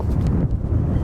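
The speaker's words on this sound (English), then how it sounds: "It is exceptionally windy" Strong wind on a beach in Iceland buffets the microphone with a low, continuous rumble and gusty thumps, close and loud, with no voices.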